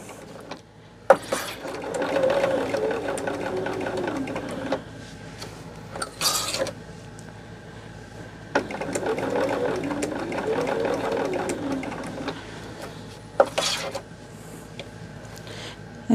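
A sewing machine stitches a quilt seam in two long, rapid runs of needle clatter, separated by brief pauses and a few sharp mechanical clicks, close and loud.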